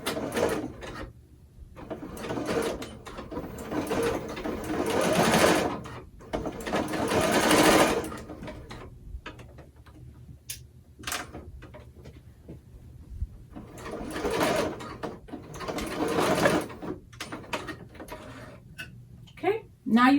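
Sewing machine stitching the lining of a zippered fabric pouch, running in several bursts of steady whirring with short pauses between them, fairly close and clear.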